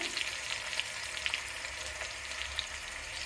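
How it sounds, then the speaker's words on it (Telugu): Onion, ginger and curry leaves fry in oil for a Nellore fish curry, a dense, even hiss of sizzling with a few soft pops and crackles scattered throughout, heard up close with no speech. "సో ఇప్పుడైతే ఆనియన్ జింజర్ కూడా ఫ్రై అయిపోతుందండి, కలర్ చేంజ్ అవుతుంది కదా గోల్డెన్ కలర్కి"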